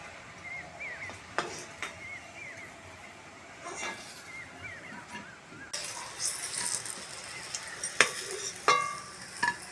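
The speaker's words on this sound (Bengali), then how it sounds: "বাকি বলগুলো এরকম ভাবে ভেজে নেব।" Cabbage kofta balls deep-fry in oil with a steady bubbling sizzle, interrupted by scattered clinks and a brighter, louder burst of frying midway as more balls go in.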